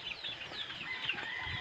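Chickens cluck softly at a small backyard farm, giving quiet, scattered calls close by with no talking.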